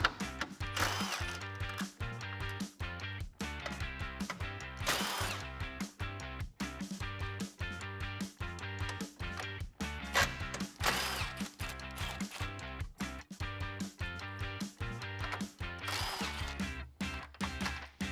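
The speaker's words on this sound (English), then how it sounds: "we're going to move on to removing the grill bolts" A ratchet with a 10mm socket works the grille bolts loose on a truck, clicking in quick, repeated close-up bursts broken by brief pauses as each bolt turns, with no voices.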